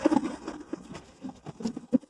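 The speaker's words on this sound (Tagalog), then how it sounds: "umuulan." Rain falls outdoors in the UK in light, scattered pattering drops, soft and fairly close for a couple of seconds, with no voices.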